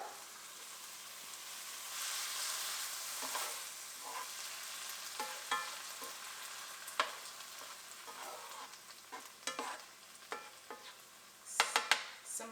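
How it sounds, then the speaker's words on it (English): Chilies frying in a pan give a quiet, continuous sizzle. Scattered scrapes and stirring clatter run through it, growing busier toward the end, with no talking. "And we're gonna add my chilies."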